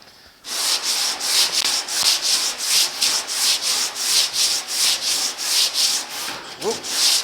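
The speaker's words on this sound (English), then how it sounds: "you can bend the sheet metal as you're sanding" Sandpaper rubs back and forth across the sheet metal of a 1950 Chevy truck door, a close, rhythmic scratching with about a dozen even strokes, ending with a brief squeak.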